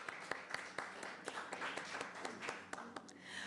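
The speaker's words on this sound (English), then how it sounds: "Let's give a round of applause, please." Sparse, scattered claps from a forum audience, a handful of distinct hand claps spread over a few seconds against a faint room background, quiet and somewhat distant.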